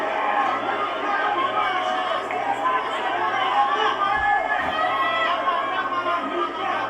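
Boxing arena crowd during a Pacquiao vs. Barrios fight, a dense continuous roar of chatter and cheering from a large audience, steady and loud, with a commentator talking over it.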